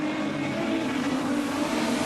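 Production sedan race cars lap Carina Speedway in a final, engines roaring steadily and densely as the pack drives into a corner against the cushion, a continuous loud motor drone with no pause.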